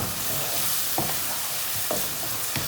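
An egg, tomato and lemon juice mixture being stirred in a hot pan with green onion: continuous sizzling with a few sharp scraping knocks of the spoon at intervals.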